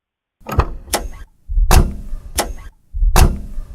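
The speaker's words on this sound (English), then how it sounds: "Here comes the car door." A series of close clunks and clicks, with a heavy thud among them, like a car door being opened, handled and shut.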